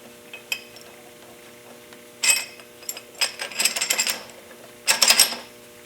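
Metal ratcheting and clanking as a spring compressor tool is worked on a Bilstein B8 front shock, bursts of rapid close clicks and rattles separated by quieter pauses.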